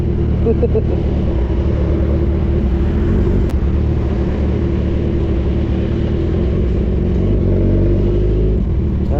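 A loud, steady engine drone from a Kawasaki Z1000 R sport motorcycle, rumbling and revving close by throughout without a break.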